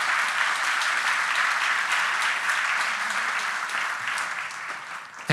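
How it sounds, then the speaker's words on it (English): Audience applause for the organising team and volunteers at a forum in Vilnius, a loud, dense and steady burst of clapping from a large hall that eases slightly near the end. "I would like you to have a big round of applause for my team and the volunteers"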